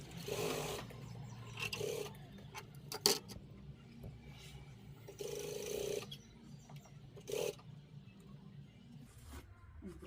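A sewing machine stitches a party frock in a tailoring shop, running in several short bursts separated by quiet pauses, with a faint ticking underneath.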